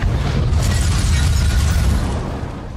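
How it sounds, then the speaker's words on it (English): A loud, sustained rumbling movie explosion with heavy low-end roar and crackling debris, holding steady for a few seconds before slowly fading. "For me, it's explosions in movies."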